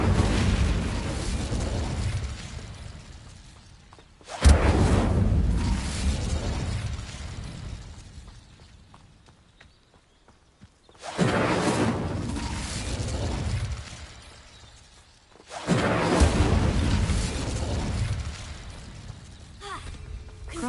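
The Incendio fire spell erupts three times in a video game, each cast a sudden loud whooshing burst of roaring flame that slowly fades before the next, with quiet stretches between.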